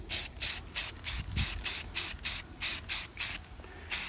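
An aerosol can lays short bursts of spray paint onto a model railroad bridge section, about a dozen evenly spaced hissing puffs, each roughly a quarter second long, close and clear with no talk.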